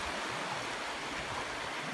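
A low, shallow river runs at a cold wild camping spot, giving a steady broadband rush of flowing water, faint and continuous with no voices over it.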